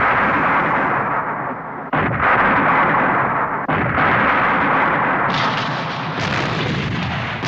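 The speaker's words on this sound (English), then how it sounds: "the spotters worked, the guns cooled, the shells were readied for the last great barrage" Artillery barrage with field guns firing shells, heard as a dense, continuous roar of overlapping blasts, loud and close, with a few sharper cracks punching through the rumble.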